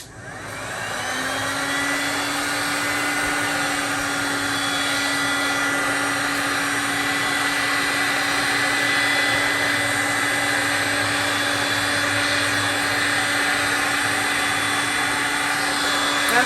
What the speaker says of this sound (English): maybe I should push it with the heat gun again